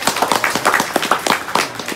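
An audience at a Balinese religious sermon claps along, a series of distinct, fairly rhythmic hand claps, close and moderately loud, with a few overlapping clappers.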